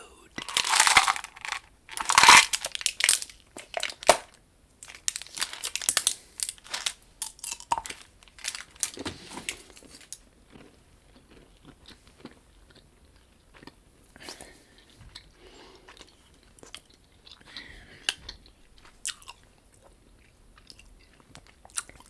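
Gum chewing close to the microphone in an ASMR setting: crisp, wet chews and crinkly bites are loud and frequent at first, then settle into softer, sparser chewing near the end.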